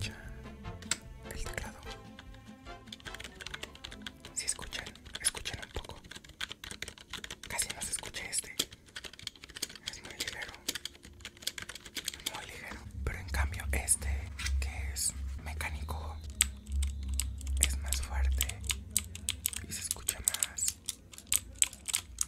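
Computer keyboards, from a cheap basic model up to an expensive one, clatter with rapid, dense keystrokes during Minecraft Skywars PvP play, a busy ticking that continues throughout with a low rumble joining partway and soft whispering underneath.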